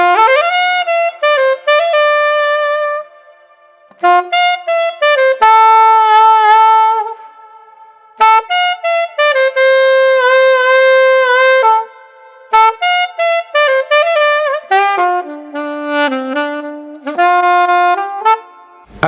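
Alto saxophone playing the opening line of a song, with a glide into the first note, then phrases of sustained bright tones separated by short breaths and rests, close and fairly loud, with no talking.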